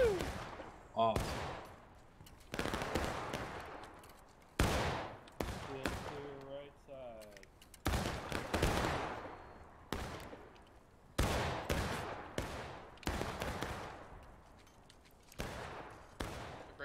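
Musket volleys crack out in a Civil War video game battle at School House Ridge, roughly a dozen sharp, loud shots spaced a second or two apart, each trailing off, with faint voices between some reports.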